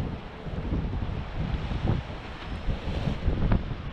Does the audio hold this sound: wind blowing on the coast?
yes